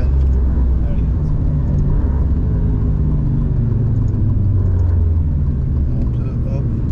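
A car on a race circuit in the Emirates, a steady loud engine rumble filling the cabin throughout as it drives and slows under braking, with no clear change in tone.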